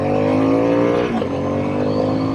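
A Harley-Davidson Sportster S motorcycle accelerating hard on the road, its engine note loud, close and steady with a strong harmonic drone that dips briefly mid-pull before surging on.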